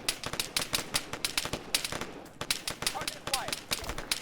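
Arma 3 AI soldiers open fire in a video game firefight, rapid bursts of gunshots cracking in quick succession with faint background noise.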